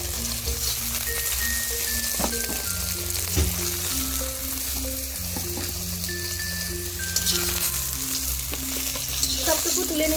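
Okra and potatoes frying in oil in a pan, giving a steady, close, dense sizzle throughout with a faint tune running over it and no talking.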